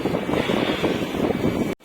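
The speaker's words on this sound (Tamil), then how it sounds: "சரியான காற்றுங்க உங்களுக்கு வாய்ஸில் பார்த்தவே தெரியும்" Strong wind buffets the microphone of a lorry driver outdoors on a Ramanagara to Coimbatore route, a loud, rough roaring rumble for most of the moment before cutting off abruptly near the end.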